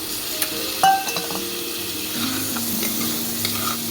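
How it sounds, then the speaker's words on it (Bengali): Chopped tomatoes frying with spices in a pan for a Bengali prawn and shapla recipe, a continuous sizzle with clinks and scrapes of a utensil on the metal, the loudest knock near the start. "2খানা টমেটো আমি কেটে নিয়েছি, এটাও একটু এই মশলার সাথে ভেজে নিচ্ছি।"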